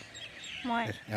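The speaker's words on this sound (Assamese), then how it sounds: "এইজনী চৰাই চিঞৰি আছে।" A myna bird gives a couple of bright, harmonic calls, fairly near, over a quiet background.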